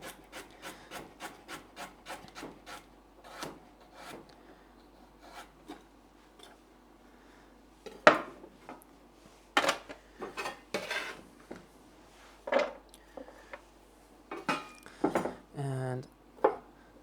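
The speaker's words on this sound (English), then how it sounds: "And then this remaining bit, I'll just cut in half and slice." A knife slices carrots on a cutting board, producing a quick run of crisp, regular chops near the mic, then sparser, louder cuts and board knocks. Soft kitchen handling noises fill the gaps.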